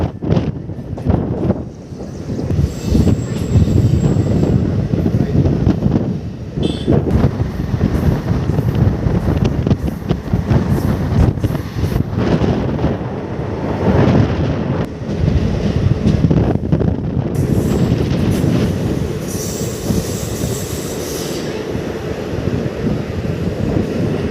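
Passenger train running from Sirnapalli toward Indalvai station on a line under doubling work, heard from on board as a loud continuous rumble with rhythmic rattling and heavy wind buffeting throughout.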